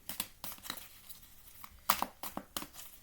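Oracle cards shuffled by hand, quiet and close, with a series of soft papery riffles and flicks spread irregularly over a few seconds, no talk.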